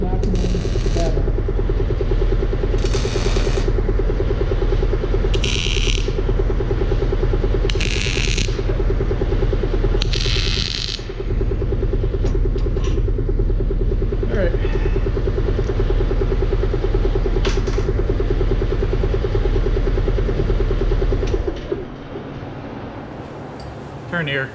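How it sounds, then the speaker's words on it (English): An air compressor runs steadily in a workshop where DIY rock sliders for a 2nd-gen Nissan Xterra are being built, a loud continuous motor drone with bursts of hissing air and clinks, cutting off near the end. "Turn the air compressor off."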